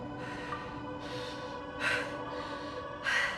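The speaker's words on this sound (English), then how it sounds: "I could do without all the panting. Games seem to love doing that." Breathy panting from a character in the video game The Invincible, a series of repeated heavy breaths with two louder gasping bursts, close and alone over a low game ambience hum.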